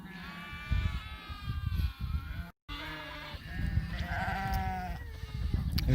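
Sheep bleat repeatedly as a large flock of ewes and lambs is driven along, with several overlapping calls near and far over the steady background noise of the drive.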